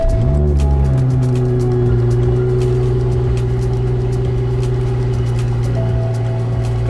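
A BMW with an 8-speed automatic sits idling after being started, a steady engine hum with low harmonic drones holding evenly throughout, loud and close with no talking.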